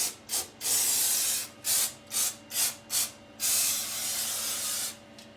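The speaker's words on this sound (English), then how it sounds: "get the multi-solve and spray it on the silicone" An aerosol can of Multi-Solve sprays onto old shower-base silicone in a series of short hissing bursts, then two longer continuous sprays, close up and with no speech.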